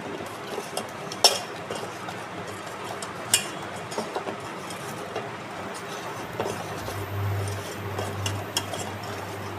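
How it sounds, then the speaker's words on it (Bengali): Pointed gourd being mixed by hand with salt and turmeric in a dish, with soft stirring and scraping and occasional sharp clinks of utensils against the vessel, close and fairly quiet. "চলো আগে পটলটার মধ্যে ভালো করে একটুখানি নুন হলুদ মাখিয়ে নিই"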